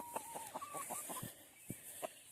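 Chickens at a backyard chicken coop give a run of soft, quick clucks, then a few scattered single clucks after a short pause, close by and fairly quiet over a faint steady background hiss.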